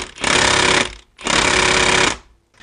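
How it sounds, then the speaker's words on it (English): Impact wrench hammering on a transmission bolt of a BMW E46, two loud sustained bursts of about a second each with a brief pause between and a short third burst starting at the end, close up with no talk. "let's see if the impact can just do it by itself."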